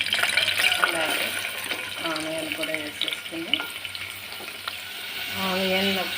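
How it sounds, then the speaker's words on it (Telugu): Onions and green chillies sizzling in hot oil in a pressure cooker, a continuous crackling fry with some scraping and a few short tonal clinks or hums near the middle and end. "కుక్కర్ పెట్టుకున్న ఆయిల్ పోసుకున్నాను ఇప్పుడు ఆనియన్ ఇందులో వేసేసుకున్నాను నాలుగు పచ్చిమిర్చి"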